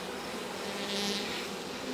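Honeybees buzzing during a hive inspection: a steady, fairly loud droning hum that swells slightly midway, with a few agitated bees close by on the beekeeper's hand.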